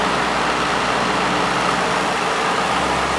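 A McMillan shaded-pole fan motor runs steadily, giving a continuous broadband whir with a low hum beneath, constant in level and close by, with no voices.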